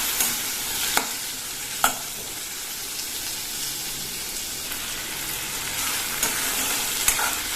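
Curry leaves sauté in a pan for toor dal chutney, making a soft continuous sizzle with a few sharp spoon taps against the pan, close by and without any voices.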